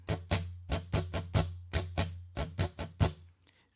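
Guitar strumming pattern for a song, a steady rhythm of about a dozen quick down and up strokes with crisp attacks, fairly quiet and alone.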